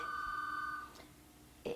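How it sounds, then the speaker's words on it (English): A telephone rings once in a quiet room during an interview, a faint sustained electronic tone that stops abruptly, followed by a soft knock and rustle. "I think the phone is ringing"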